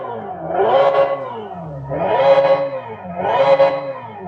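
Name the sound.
Hyundai Ioniq 5 N synthetic Evolution drive sound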